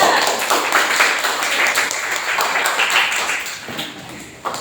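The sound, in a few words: applause for presenting group 2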